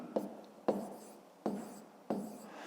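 A pen writes out a fifth-grade maths solution on paper in four distinct strokes, each starting with a sharp tap and trailing into a scratch. The writing is close and fairly quiet.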